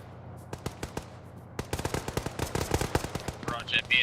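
Gunfire in the military video game Arma during a large multiplayer battle: sparse single shots give way to rapid bursts of loud automatic fire, with voices in between.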